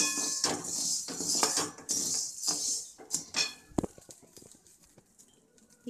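Roasted lentils stirred with salt in a pan while making idli milagai podi, a gritty rattling scrape with repeated clinks of a utensil against metal, loud at first and then thinning to sparse taps.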